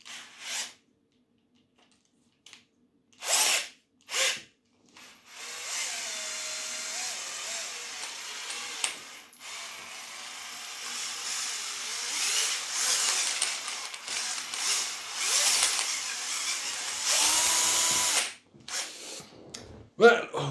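A power drill spinning a flycatcher whirs in bursts, with short clicks and pauses, then a longer whining run with a rattling, flapping texture, fairly close.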